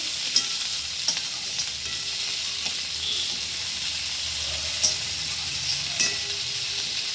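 A seasoning for lemon chutney fries in a pan with a constant soft sizzle. Light spoon taps and scrapes break through it at intervals, and nobody speaks.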